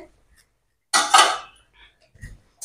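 A metal lid is lifted off a cooking pot of mustard-paste khoira hilsa fish curry, giving a single bright clatter and short ring, then brief quiet and a faint soft knock.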